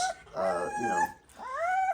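Young puppies whimpering and whining at a kennel, a couple of close, high, wavering cries with a brief pause between them.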